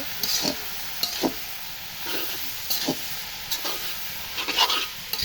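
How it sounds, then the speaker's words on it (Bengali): Helencha greens are stirred in a hot frying pan, with a continuous sizzle broken by repeated scraping strokes of the spatula at an irregular rhythm, moderately quiet and without talk. "এখন আমি শাকগুলা ঢেলে দিব, ভালো করে নাড়াচাড়া দিয়ে নেব"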